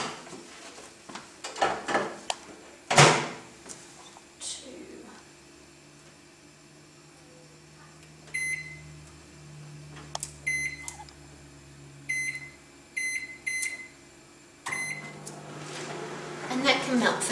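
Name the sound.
microwave oven running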